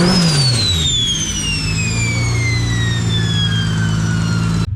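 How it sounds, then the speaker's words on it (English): A 2JZ engine swapped into a Nissan S13 runs loud and close on its first start, its pitch sweeping down from a high rev toward a steady idle before cutting off abruptly. "Alright guys, so the car ran."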